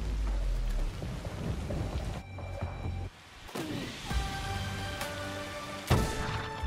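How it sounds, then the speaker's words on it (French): Heavy thunderstorm in Assassin's Creed Shadows, steady loud rain hiss with rolling thunder rumbles and a sharp crack near the end, plus wind through vegetation, with no one talking. "le vent dans la végétation, le bruit de l'orage, le sound design."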